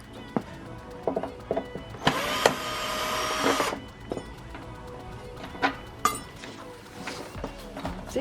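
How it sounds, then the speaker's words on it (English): Hardware coming off an old thrifted wooden bookcase, with scattered clicks and knocks and a short loud burst of drill-like whirring in the middle. "I'm going to remove this hardware"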